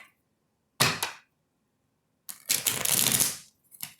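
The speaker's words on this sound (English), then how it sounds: "Okay, last shuffle, guys." Tarot cards being shuffled up close: a short riffle burst, a pause, then a longer flurry of rapid papery flicks and a final brief rustle.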